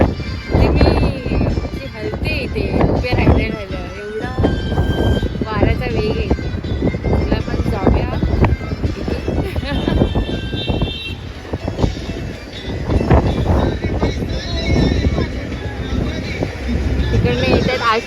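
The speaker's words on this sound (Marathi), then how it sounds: "इथे थंडी तर नाही आहे पण वारा प्रचंड आहे" Strong wind roars and buffets the microphone throughout at the hilltop Ekvira temple in Karla, loud and continuous, with a person talking over the gusts.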